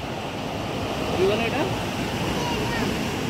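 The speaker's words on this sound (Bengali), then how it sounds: "সমুদ্র।" Sea waves washing onto Digha beach make a steady, broad surging wash with wind, swelling slightly midway, while a person speaks briefly over it.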